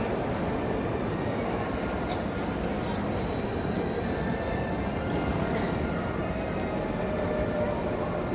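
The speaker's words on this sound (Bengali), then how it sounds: "এইটা হংকংয়ের একটা মেট্রো রেল স্টেশন" Sunny Bay metro station in Hong Kong, the interchange for the Disneyland line, gives off a steady, loud ambient rumble with a broad hiss of rail and crowd noise. The sound is continuous throughout with no distinct events.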